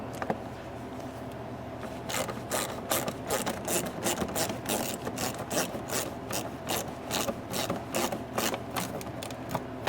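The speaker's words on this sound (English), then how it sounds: "1/4 inch ratchet with a 6mm socket on it. Just loosen that up by hand." A 1/4 inch ratchet with a 6mm socket loosening a bolt on a Range Rover L322 with the M62 V8, giving quick repeated clicking in a steady rhythm, close up and clear, with no talk.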